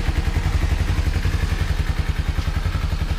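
A Kawasaki Ninja motorcycle engine runs in a steady, loud, close rumble with rapid low pulsing throughout, alone without talk.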